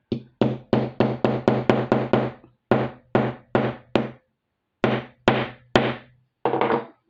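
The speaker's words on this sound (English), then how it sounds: "I'm getting ready to hammer" Hammer blows on a recycled leather belt bracelet, struck in quick bursts of solid thunks, first a rapid run of about ten, then spaced groups of three or four, loud and close with no talking.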